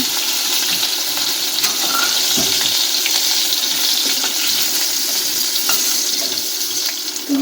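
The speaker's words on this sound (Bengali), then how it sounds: "ঢেঁড়সগুলো যখন এমন করে ভাজা হয়ে যাবে দেখেছো ঢেঁড়সগুলো কেমন ভাজা হবে" Okra sizzles in hot oil in a pan with a steady, close, broadband hiss and faint crackles throughout, with no talk.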